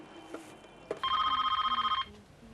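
A telephone rings in a rapid electronic trill, one burst lasting about a second, close and clear over faint room noise.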